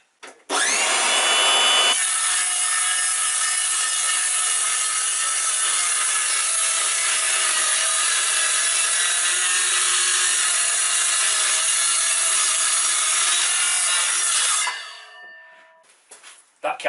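A power saw cuts through wood plinths in a workshop, one long continuous loud whine lasting well over ten seconds before spinning down, with brief bursts at the start and end.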